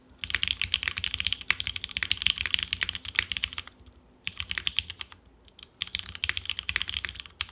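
A Mode SixtyFive mechanical keyboard with a brass plate and GMK keycaps is typed on, with fast, crisp keystroke bursts close up, broken by short pauses between runs.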